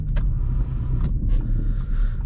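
Audi SQ5 fitted with AWE downpipes and a touring catback exhaust idling cold, a steady low rumble with a droning vibration, heard close and alone with a few faint clicks.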